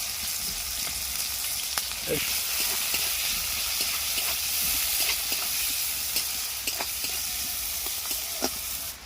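Chopped onion and green chillies hit hot oil in a pan already seasoned with cumin seeds, giving a loud, continuous sizzle and hiss with occasional stirring scrapes, close by.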